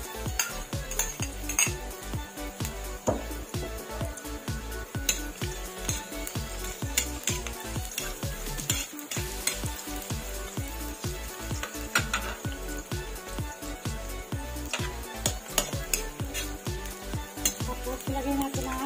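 Onions sauté in a kawali for lumpiang sariwa under a continuous frying hiss, punctuated by rapid, rhythmic metal spatula clanks and scrapes against the pan for the whole stretch, with no talking.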